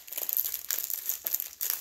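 Plastic resealable bags from a diamond painting kit being handled, close crinkling and rustling in quick irregular bursts, with no talking.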